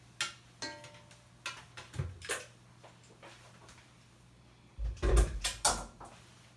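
An electric stand mixer is lifted away and set down in a home cake-baking kitchen, making a few scattered clicks, knocks and a heavier clunk near the end, close and moderately loud over a low steady hum.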